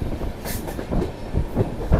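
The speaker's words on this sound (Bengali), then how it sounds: "ট্রেনটা এবারে বাঁক খাচ্ছে আর পাহাড়ের উপরে উঠছে" On the Kolkata to Sairang Express, the train rounds a curve while climbing a hillside toward Mizoram, its wheels clattering in a loud, uneven clickety-clack with a faint squeal over the rumble.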